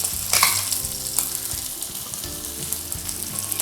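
A medium-sized fish frying in hot oil makes a loud, continuous crackling sizzle, with bursts of popping and bubbling spitting throughout.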